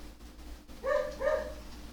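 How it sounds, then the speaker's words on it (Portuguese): A dog barks twice in quick succession in a room, two clear tonal barks at moderate distance following a quiet background. "E acho que o meu cachorro tá latindo"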